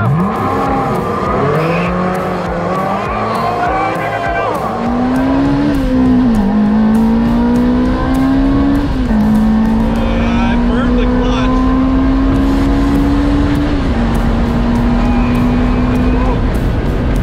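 An exotic car launches hard and accelerates, its engine note climbing through gears with loud, close revving and shift breaks. Tires chirp at the start, and voices talk over the engine.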